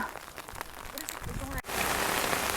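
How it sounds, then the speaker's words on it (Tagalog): Rain falls outdoors during berry picking, a soft patter that swells into a steady, louder hiss of rain on a surface partway through. "Walang tigil talaga kahit naulan, no?"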